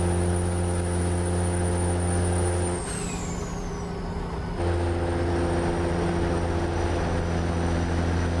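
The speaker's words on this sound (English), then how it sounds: "I want to hear the engine for a second. Listen to that turbo." A heavy truck's diesel engine and turbocharger in American Truck Simulator drone steadily and loudly with a high turbo whine, dipping briefly into a quieter shifting phase mid-clip before the engine's hum resumes.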